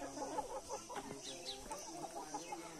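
Several chickens cluck and squawk close by at a chicken shop in a steady, overlapping jumble of short calls, with no talking.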